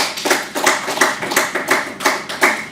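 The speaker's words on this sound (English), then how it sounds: "Can we clap for ourselves?" A small group of young debate participants claps for themselves in loose, uneven unison, several hands striking close by in a quick series of pulsing bursts.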